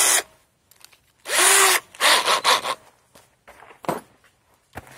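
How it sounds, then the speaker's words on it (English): A power drill with a new type of bit boring into material while building a bird bath, several loud short bursts of whirring, starting and stopping close by with quiet pauses between. "I'm just going to come up here and drill it."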